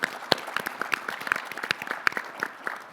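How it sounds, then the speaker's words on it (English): Audience at a CEO panel session at MINExpo 2024 claps in a brief round of applause, with sharp, irregular claps close by and no voices over it. "Please join me in a round of applause for their attendance here today."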